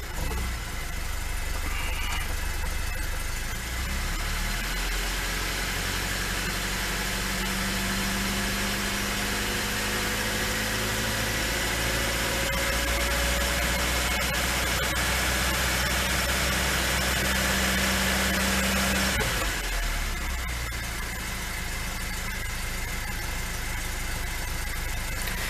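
A Lada 2102 with a freshly rebuilt carburettor idles steadily for about twenty-five seconds. The engine hum is loud and continuous, with a slight flat spot, and no voices are heard over it.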